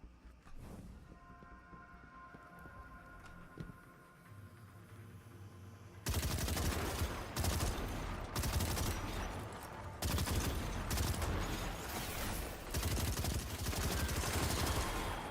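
Automatic fire from an auto rifle in the video game Destiny: Edge of Fate starts abruptly after a quieter stretch of game ambience, then rattles on loud and close in long sustained bursts with short pauses between them.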